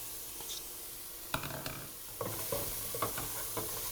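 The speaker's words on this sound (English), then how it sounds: "So now your onion and garlic have caramelised, you need to add your peppers." Peppers frying in a saucepan with caramelised onion and garlic, a steady close sizzle broken by several scraping stirs of a utensil against the pan.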